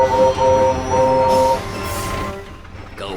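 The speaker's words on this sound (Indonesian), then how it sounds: "Menyingkir dari jalanku, kereta gerbong mau lewat." A train rolls past in a Thomas & Friends cartoon, with a loud rumbling run, steady whistle-like tones and a rushing swell that fades near the end, no speech heard.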